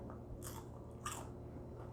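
Someone bites into crispy fried chips sprinkled with malt vinegar, cooked on a Blackstone griddle, with two quick close crunches over a low steady hum and no talk.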